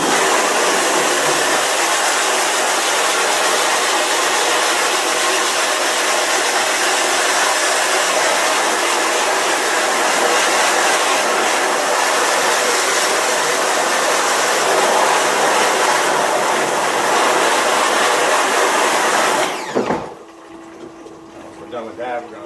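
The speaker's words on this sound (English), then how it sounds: "Take our pressure washer, and we're gonna blow this out." A pressure washer blasts a screen printing screen clean in a loud, steady, hissing roar that runs unbroken for about twenty seconds, then cuts off abruptly and leaves a quiet hum.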